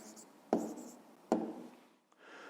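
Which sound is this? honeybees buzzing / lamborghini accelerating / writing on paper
writing on paper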